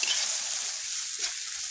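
Spices and ginger paste are sautéed in a pan, a loud, bright, continuous sizzle heard up close with only slight swells and no pauses.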